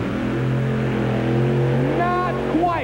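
A pulling truck's California-built Arias hybrid engine at a 1989 Atlanta truck pull, a loud, steady, heavily harmonic drone that holds throughout, with a voice breaking in briefly near the end.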